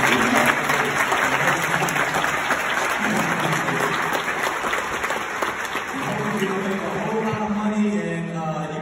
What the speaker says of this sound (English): Parents, family members, give yourselves a round of applause for working.